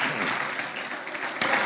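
A church congress audience claps in a dense, continuous burst of applause at close range, swelling briefly near the end.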